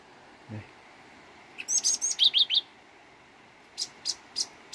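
Decoy laughingthrushes in a bird trap give bursts of sharp chirps, a rapid cluster of five or six and then a slower series of four, clear and near, with no talking.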